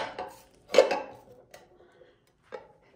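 A chilled lokum dish being set onto a serving plate and flipped: a few sharp clinks and knocks of dishware, one louder clatter, then a faint tap, quiet and close.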